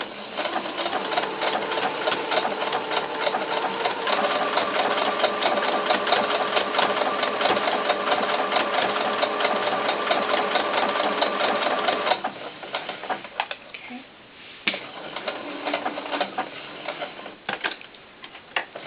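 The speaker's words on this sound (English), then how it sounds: "And I'm going to let my machine do the sewing." Sewing machine stitching a doll tank top, a steady close mechanical whir running continuously for about twelve seconds, then stopping into quieter handling and short bursts of stitching.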